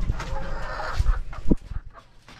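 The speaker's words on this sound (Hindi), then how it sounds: "अबू बकर भाई की मुर्गी ने अंडा दिया।" A hen clucks close by in a yard, a short run of excited clucks and cackles with a louder squawk near the middle.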